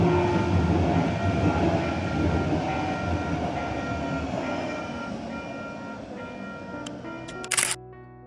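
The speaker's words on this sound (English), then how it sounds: "The train goes by now." A train rolls steadily past a railroad crossing with flashing lights, a loud continuous rumble and rattle of railcars that thins slightly toward the end, where a sharp burst of clicks cuts through.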